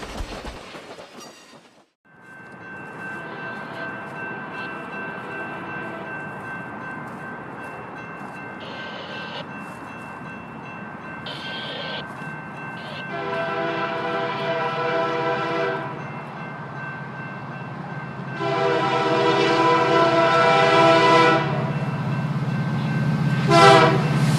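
A circus train rolls past, its horn sounding in several long blasts over a steady rumble of wheels and railcars that grows louder and closer toward the end.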